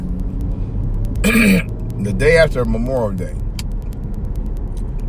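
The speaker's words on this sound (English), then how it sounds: "What's up with this traffic?" Road traffic gives a constant low rumble of passing cars throughout, heard as a steady background drone beneath someone speaking close by.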